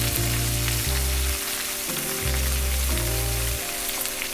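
A ribeye steak sizzling loudly in a cast iron pan while being basted with foaming butter, a dense continuous hiss with a steady low hum running underneath.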